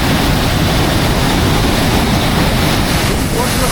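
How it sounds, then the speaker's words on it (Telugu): A strong waterfall pours steadily in a forest at Lambasingi, a dense, loud roar of rushing water that holds for the whole stretch, mixed with some wind buffeting. "చూడండి వాటర్ ఫాల్స్ మామూలు లేదు అసలు"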